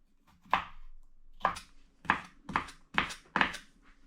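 A knife chops kohlrabi on a cutting board, six or seven sharp close thuds at uneven intervals with short quiet gaps between them and no voices.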